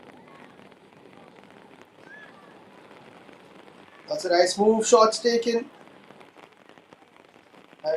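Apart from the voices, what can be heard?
rain falling on a soccer pitch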